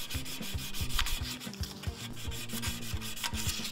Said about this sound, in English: smoothing out the cut marks out of the aluminum. Here I am doing it by my preferred method.